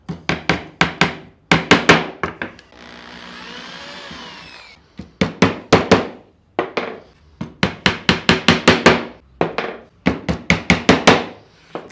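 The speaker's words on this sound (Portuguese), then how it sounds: "Vou colocar 3 preguinhos aqui só pra gente manter isso aqui preso." Small nails hammered into thin pine for a drawer in a workshop: quick bursts of sharp, close taps in repeated clusters, broken by a short stretch of steady noise.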